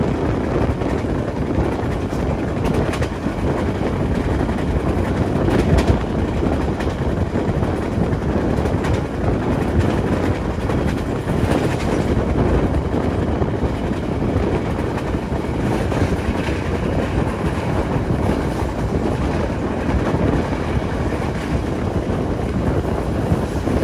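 Airlangga economy-class train rolling along the rails from Jakarta, a steady, loud, continuous rumble and clatter with wind buffeting throughout, no voices.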